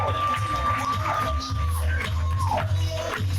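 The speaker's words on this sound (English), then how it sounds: "Please get your hands clapped and make some noise for Ray Burress!" A live audience at a comedy show cheers and whoops loudly for a comedian, with crowd noise and shouting continuing steadily throughout.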